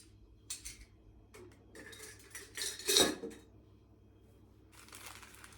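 Metal cutlery clinks and rattles in a few short bursts, one sharper clatter in the middle, close and quiet with pauses between.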